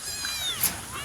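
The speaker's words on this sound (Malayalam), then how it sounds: "അപ്പോൾ വന്ന പാടാൻ നമ്മൾ പൂച്ച കുട്ടികളൊക്കെ വിടും" Kittens mewing in short high thin cries, one louder call near the middle, against a faint steady background hum.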